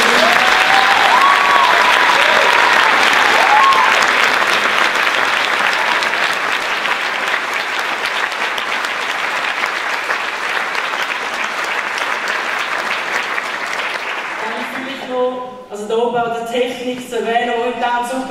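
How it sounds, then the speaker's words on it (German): A theatre audience applauds the creator of a musical with dense, sustained clapping that slowly thins and fades, before a voice starts talking near the end. "Und ja, also auch für mich einen Applaus."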